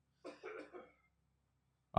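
A short burst of coughing, three quick rough hacks close together, followed by silence and then a loud sudden noise at the end.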